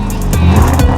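A Lamborghini Urus engine rumbles loud and close, a deep continuous growl with a brief swell partway through, while a little speech sits faintly underneath.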